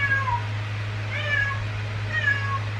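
A cat meows three times in slow succession, clear and fairly close, over a steady low hum.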